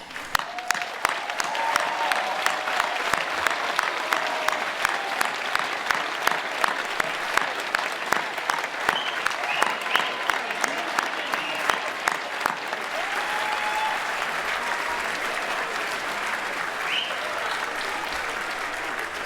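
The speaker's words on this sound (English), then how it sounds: "turn around, and we're going to applaud them" Graduating seniors at a 2023 commencement ceremony stand and applaud their families, a sustained crowd clapping that fills the whole stretch, steady and dense with a few louder individual claps, with no talk over it.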